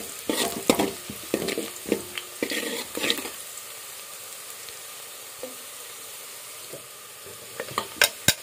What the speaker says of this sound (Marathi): तर आता आपलं तेलात कांदा टाकलाय. कांदा भाजतोय.